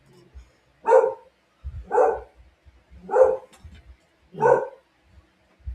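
A dog outside a closed door barks four times, loud and close, at an even pace of roughly one bark per second, with quiet gaps between.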